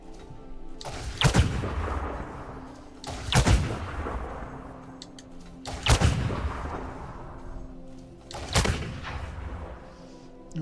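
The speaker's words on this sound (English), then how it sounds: "Displacement missile." Displacement missiles firing in the space game Elite Dangerous, four heavy booming launches spaced about two to three seconds apart, each a loud broadband burst fading into a rumbling tail.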